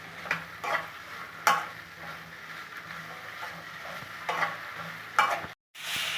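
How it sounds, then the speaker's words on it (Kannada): Okra frying in oil in a pan, a low quiet sizzle broken by sharp spoon-scraping stirs at irregular intervals, close by, with a brief gap near the end. "ಒಂದು ಮೂರು ಸ್ಪೂನ್ ಎಣ್ಣೆ ಹಾಕ್ತಾಯಿದ್ದೀನಿ ಇದನ್ನು ಚೆನ್ನಾಗಿ ಎಲ್ಲನ ಫ್ರೈ ಮಾಡ್ಕೊತೀನಿ"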